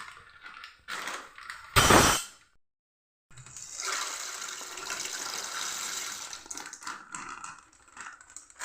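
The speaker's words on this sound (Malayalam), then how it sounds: "ഇത് ഞാൻ പൊട്ടിച്ച് വെള്ളത്തിലോട്ട് ഇടുകയാണ്" Dry macaroni snaps with a sharp crack, then pieces drop into a pot of salted water on the stove, followed by a steady close rush of bubbling water that lasts several seconds.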